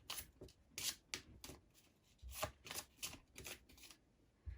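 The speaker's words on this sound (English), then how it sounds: "We'll do 3 more shuffles." A tarot deck is shuffled by hand in a quiet room, giving a series of close, soft riffling and slapping bursts in an uneven rhythm of about a dozen strokes.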